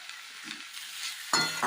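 Leafy greens sizzling in a hot pan as they are stirred, with turmeric and salt added; a steady close frying hiss with brief scraping stir noises, getting louder near the end, no talk.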